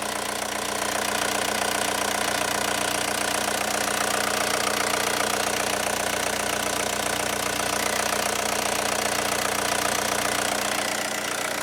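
A 1.9-litre ALH TDI diesel engine in a Volkswagen Jetta idles steadily after its fuel system has been primed and bled, a continuous loud clattering knock with no talk.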